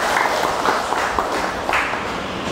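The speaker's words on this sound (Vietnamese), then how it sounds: "Vỗ tay một cái đi" An audience at a Buddhist dharma talk claps together, a dense, steady patter of many hands that fills the whole moment at an even level with no pause.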